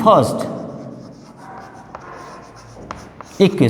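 Chalk or marker strokes scratch across a board as a quadratic equation is written out in a maths lesson, a steady run of writing with a few sharper taps, without speech.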